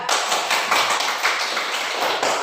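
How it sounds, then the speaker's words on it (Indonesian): Students in a classroom lesson clap their hands together in quick, regular unison beats, crisp and close, with no talking over them. "Tepuk tangan."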